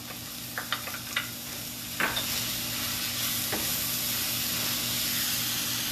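Corn sizzles in a hot pan for jerk chicken fried rice, with a few sharp clacks of stirring near the start and then a steady frying hiss close by.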